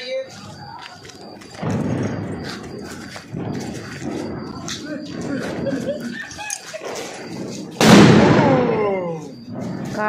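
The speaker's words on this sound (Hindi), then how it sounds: "सब अपन फोड़ने वाले हैं ये धमाका वाला पाइप बम" Voices chatter over a low rumble during Diwali, then a firecracker pipe bomb bursts out near the end in a single sharp, loud blast that rings off as a fading crackle.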